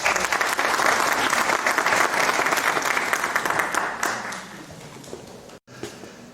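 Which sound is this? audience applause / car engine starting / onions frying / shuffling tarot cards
audience applause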